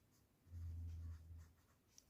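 A pen writing on paper during an English grammar lesson, a short soft scratching stroke about a second long, quiet and close, with no talk.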